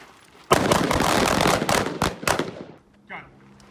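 Carbine gunshots on a shooting range during a drill from the high ready position, a dense overlapping volley of loud sharp shots from several shooters, then a few isolated cracks tapering off, followed by a brief faint voice.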